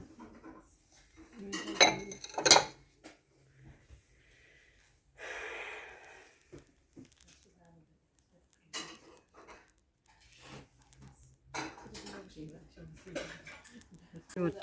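Spoons and dishware clink as they are handled in two sharp bursts early on, with softer rattles afterward and breathy sounds between.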